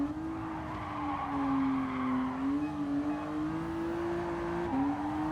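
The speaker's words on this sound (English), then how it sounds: "This car makes a squeaky sound too." A supercar's tires squeal in a Gran Turismo Sport race, a sustained high-pitched whine that wavers and bends in pitch and runs continuously over a low engine rumble.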